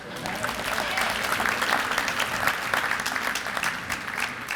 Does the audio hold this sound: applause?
yes